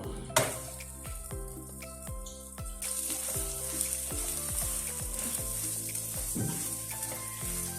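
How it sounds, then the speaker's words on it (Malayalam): Flatbread cooks in an oiled pan with a soft, steady sizzle, while repeated low thumps and clatters of handling and turning the bread sound close by. "ഇനി നമുക്ക് ചുട്ടെടുക്കാം. അതിനുവേണ്ടി പാനിൽ നമ്മൾ ഓയിലൊക്കെ ഒഴിച്ചാട്ടോ ചുട്ടെടുക്കുന്നത്."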